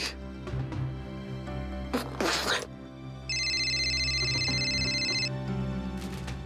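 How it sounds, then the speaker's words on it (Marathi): A mobile phone rings with a steady electronic tone for about two seconds in a Marathi TV serial scene, sounding under background music and some household noise. "सौमित्राचा फोन आहे. उचला"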